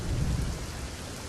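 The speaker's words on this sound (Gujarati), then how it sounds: "તમામ જગ્યાએ ભારે વરસાદ જે છે તે વરસ્યો છે" Heavy monsoon rain pours steadily across Aravalli district near Modasa, a dense, loud wash of falling water with a deep rumbling low end, constant throughout with no voices.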